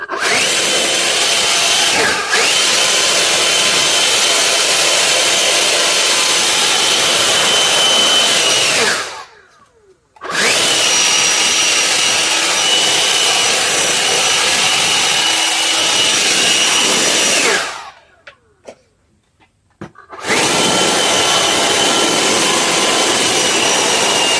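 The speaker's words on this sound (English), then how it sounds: "Let me grab the handheld blower." A handheld power blower blasts loose debris out during maintenance work, a loud, harsh continuous whooshing roar run in three long bursts with abrupt stops and short silent gaps between them.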